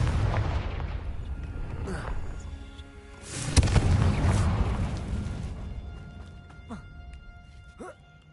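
A Confringo blasting spell goes off in Hogwarts Legacy with a sharp crack and a rolling boom, followed by crackling debris and a few smaller pops, with a player talking around it.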